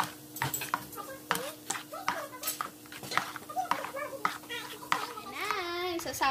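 A spoon stirs and scrapes a pot of ube halaya mixture, producing repeated clinks and scrapes in an irregular rhythm. Close and moderately loud, with children's voices and chatter mixed in throughout.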